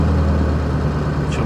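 A Ford 7.3 Powerstroke diesel engine running at a high idle, a loud, steady, close droning rumble with no change in pitch over the short stretch.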